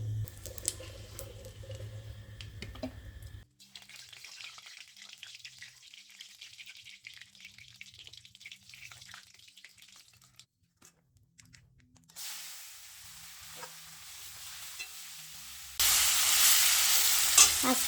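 Vegetables sizzle in hot oil in a pan with stirring and scraping, the sound changing in sections and growing to a loud, bright hiss near the end, with no voices.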